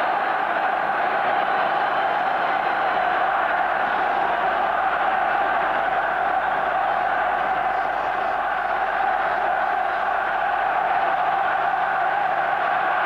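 A football stadium crowd at a 1990 World Cup qualifier between Ireland and Spain roars steadily for the whole stretch, a dense, loud, unbroken wall of voices with no commentary on top.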